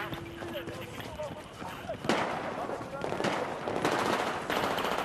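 Battlefield 4 on PS3, on the Dawnbreaker map, with bursts of machine-gun and rifle fire cracking sharply close by. Players talk over the shooting.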